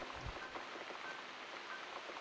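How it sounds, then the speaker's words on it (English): Rain falls in the video game The Cat Lady as a soft, steady patter and hiss that runs on without pause at low level. "Looks like we've got the rain back."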